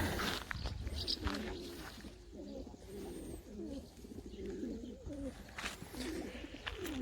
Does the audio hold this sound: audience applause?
no